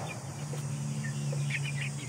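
Ganoi chickens, a rooster kept with hens, give soft clucks and short calls over a steady low hum, quiet and close by.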